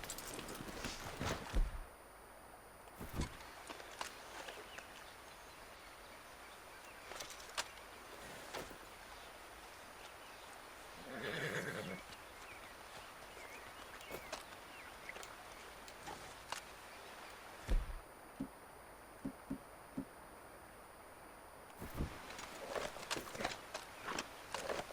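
Hooves of a horse in Red Dead Redemption 2 clop faintly and sparsely over a quiet outdoor ambience, with a soft snort or neigh-like burst midway and a few isolated thuds.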